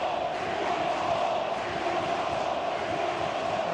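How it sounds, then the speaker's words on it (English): Vocal Bournemouth home crowd in the FC25 football game, a steady, dense roar of massed voices and chanting holding at an even level throughout without a break. "That Bournemouth crowd are very vocal, aren't they?"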